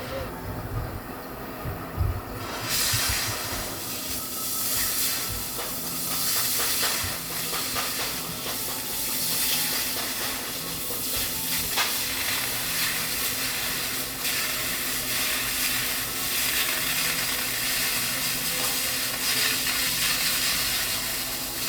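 Torch roaring steadily as it heats a metal plate before cutting, a continuous broadband hiss held at a constant level throughout, with brief low thumps at the start.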